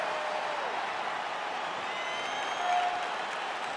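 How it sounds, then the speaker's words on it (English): Crowd noise in a UFC fight simulation video game at the start of a bout, with a steady broad roar of applause and cheering that swells slightly near the end, heard alone without talk. "crowd getting excited as this fight gets underway"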